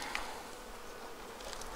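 Honeybees buzz continuously in a dense, close hum, with no voices.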